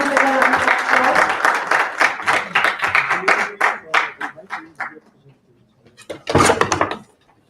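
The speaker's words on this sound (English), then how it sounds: "Please welcome them with a round of applause." Applause welcoming speakers to the stage at a radiation-awareness conference, loud clapping that thins into separate slowing claps and stops, then one short final burst.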